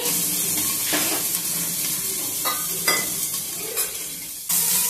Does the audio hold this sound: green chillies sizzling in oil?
yes